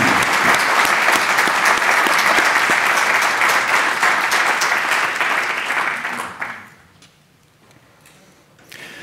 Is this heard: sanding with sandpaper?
no